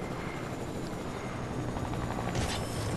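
A video game helicopter fitted with a minigun flies close by, its steady rotor thrum and turbine whine filling the scene continuously and loudly, with a brief brighter burst near the end.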